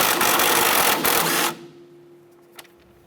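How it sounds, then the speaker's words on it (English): A 17mm socket on a ratchet wrench loosens the nut on the clevis fork bolt of a 2008-2012 Honda Accord driver side strut, a dense rapid clicking for about a second and a half, then a quiet pause with one faint tap. "Using our 17mm socket and our wrench, let's go ahead and loosen and remove the nut on our clevis fork bolt."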